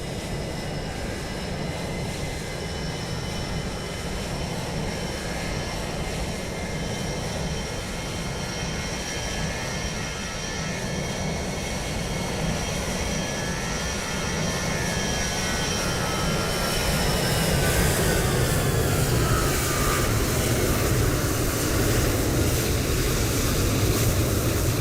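A SmartWings airliner in travel service livery rolls past in Microsoft Flight Simulator 2020 at Lisbon, its jet engines giving a steady whining roar that swells louder and deeper in the final stretch.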